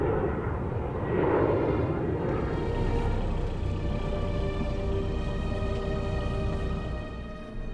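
Airplanes taking off in the evening near a marina, a sustained distant jet roar that swells early and then holds as a steady droning hum.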